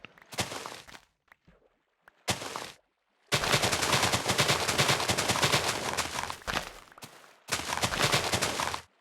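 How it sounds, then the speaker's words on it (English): Sugarcane being harvested in Minecraft, played in the Better than Adventure version: several harsh, crackling bursts of noise, some short and one lasting several seconds, separated by moments of silence. "Very noisy sugarcane."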